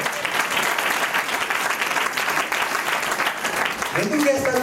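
Dense crowd applause from a church congregation, loud and continuous clapping filling the whole stretch, with a voice emerging near the end.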